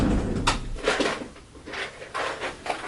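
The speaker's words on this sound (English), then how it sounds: "Opening closet door," A closet door opens with a series of soft wooden knocks and scrapes, close by in a quiet room, with no talking.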